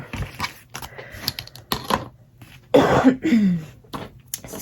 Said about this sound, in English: Excuse me, I had to cough.